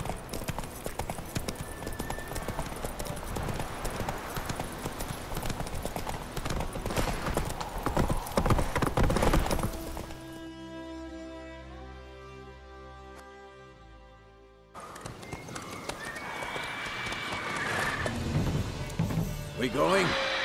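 Horse hooves clip-clop in a steady galloping rhythm in the video game Witcher 3, loud and close amid game sounds, with a brief musical break before the hoofbeats return.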